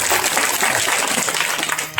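An audience at a devotional kirtan gathering claps in a dense, continuous burst, uneven and busy, that fills the space and fades slightly at the end.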